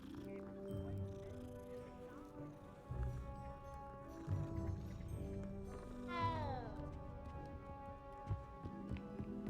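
A cat meows several times in Hogwarts Legacy, its calls rising and falling over a steady game soundtrack with a bright sliding tone near the end, fairly quiet overall.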